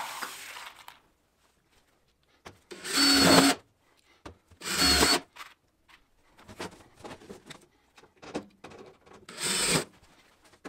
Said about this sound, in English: and then we just add a couple screws to each seam